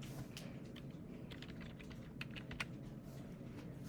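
Keys clatter steadily on a full-size computer keyboard as numbers are entered into Desmos, a dense run of quiet close taps with a few sharper strokes near the end.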